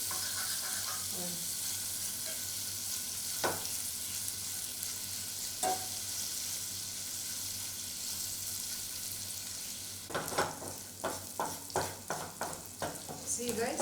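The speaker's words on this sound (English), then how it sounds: "By its own oil it's frying." Pork intestines fry in their own rendered fat with no added oil, giving a constant close sizzle broken by a few stirs and a quick clatter of scraping near the end.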